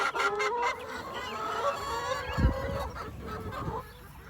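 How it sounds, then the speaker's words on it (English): Chickens on a homestead clucking and squawking loudly in an overlapping flock chorus, with a sharp thump partway through. "These birds are loud."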